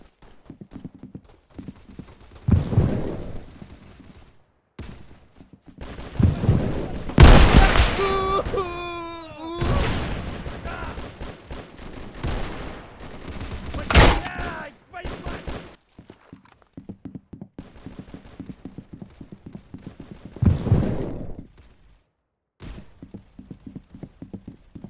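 Gunfire in the online shooter Unit: Classified rings out in scattered bursts and single cracks, loud and close at moments, with quieter gaps, mixed with shouted voices and game effects.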